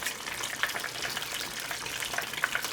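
Beer-battered fish frying in a pan of hot oil, a steady, close hiss and crackle with faint pops scattered through it.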